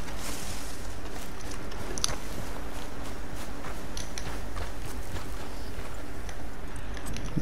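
Horse hooves walking in Red Dead Redemption 2, a soft, steady clip-clop under a constant game ambience, with light rustling and a few brief bright clicks.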